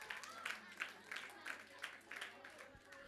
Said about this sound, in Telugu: సో క్లాప్స్ కొట్టండి గట్టిగా